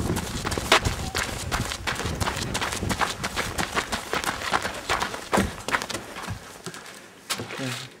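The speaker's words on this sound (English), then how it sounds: "Ready to go? I run." Quick running footsteps patter steadily and close by on a hard surface for several seconds, then slow and fade near the end.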